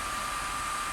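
A hot air tool blows a steady, loud hiss while heating PVC plastic sheet for bending, one continuous breathy rush with a faint high whine and no voices.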